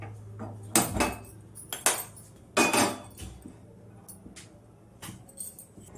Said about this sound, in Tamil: இப்போ ஸ்டவ் ஆன் பண்ணி பாத்திரம் வச்சுக்கலாம்